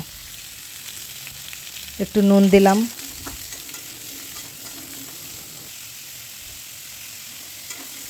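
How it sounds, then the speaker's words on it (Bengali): Diced pumpkin fries in oil with cumin seeds in a kadai, giving a steady, soft sizzle throughout, with a brief spoken phrase partway through. "কড়াইতে একটু তেল দেব, কিছু জিরে ফোড়ন দেব, আর ডুমো করে কেটে রাখা কুমড়োগুলো একটু ভাজা ভাজা করে নেব।"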